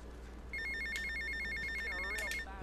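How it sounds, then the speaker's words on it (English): A telephone rings in the video game GTA Vice City, a steady repeating electronic trill that starts abruptly and continues at even volume over a low ambient hum and faint game sounds. "Phone call, eh?"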